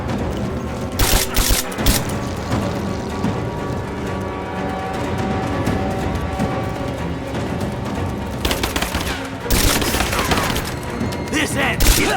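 Sustained gunfire from Rise of the Tomb Raider in a geothermal valley, with dense bursts of shots and heavy crackling volleys near the start and toward the end, continuous and loud throughout.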